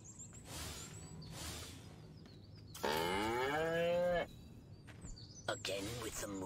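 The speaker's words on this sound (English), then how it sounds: "Again with the moo?" A cow moos in the video game Destroy All Humans!, one long, loud, drawn-out low call in the middle, with a character's voice speaking before and after it.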